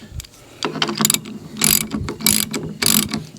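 A ratchet cranks down a bolt fitted with a lock washer, giving close, rapid bursts of clicking in several quick strokes with short pauses between them.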